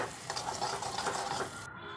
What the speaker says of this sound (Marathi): आता हे त्या मिश्रणालाही मिक्स करायचे मस्तपैकी.